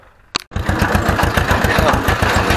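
Ursus C 325 tractor engine kicks in after a short sharp noise and then runs at a steady, loud, chugging idle with an even rhythmic thump, close by and alone.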